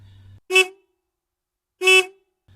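A car horn outside a house gives two short, separate honks, loud and close, with a pause of over a second between them and a faint low hum in the background.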